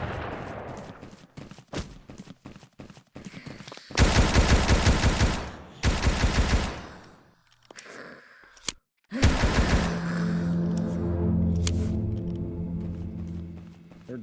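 Gunfire in a video game as zombie nurses are shot with a Magnum: a scatter of sharp, loud single shots, then heavy booming bursts with ringing tails, mixed with groaning creature noises.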